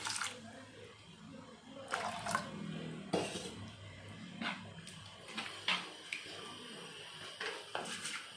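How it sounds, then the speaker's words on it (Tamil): Water splashing and trickling into a pan of dry fish masala with clinks of metal cookware, fairly quiet and close, in uneven bursts. "கொஞ்சம் தண்ணி ஊற்றிக்கிடலாம்."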